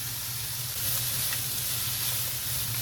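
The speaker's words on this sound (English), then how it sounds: "I'm gonna let this saute for about 3 minutes" Green beans, cabbage and carrots sautéing in a pan, giving a steady, close sizzle with soft frying hiss and a faint low hum underneath, with no voices.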